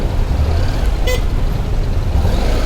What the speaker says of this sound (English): Why are you hooting?